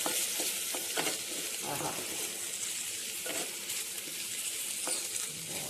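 Ivy gourd fry spiced with chili powder sizzles and crackles in a pan while being stirred, producing a steady close hiss with scraping strokes, and a voice briefly murmurs over it.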